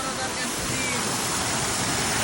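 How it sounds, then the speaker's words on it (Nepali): A small waterfall gives off a steady, close broadband rush of falling water, even and unbroken throughout. "लिटल झरना है यो चाहिँ"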